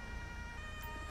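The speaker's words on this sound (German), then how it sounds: "Mach deine Sirene aus" A police siren in a video game roleplay, a steady, fairly faint wailing tone held under a constant hum of engine and road noise, with no talking.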